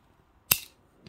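A single sharp snip of wire cutters trimming craft wire on a wire-wrap pendant, one crisp close click alone in a quiet room.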